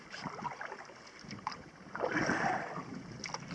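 A canoe paddle dips and pulls through lake water, with soft splashes and swishing strokes close by under light wind noise.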